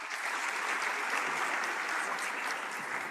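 Conference audience at the 3i Africa Summit applauds panel speakers, a steady, unbroken sheet of clapping from a large room, moderately loud and even throughout, without speech.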